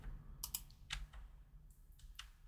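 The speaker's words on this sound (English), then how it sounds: "So when I press the caps lock" A few distinct clicks from a computer keyboard as the caps lock key is pressed, sparse and fairly close in an otherwise quiet room.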